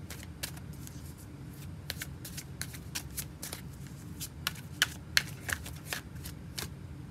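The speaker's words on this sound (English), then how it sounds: "I'm going to get your cards laid out." Tarot cards being shuffled, handled and laid out on a table: a string of soft snaps and slaps over a low steady background hum, close up and fairly quiet.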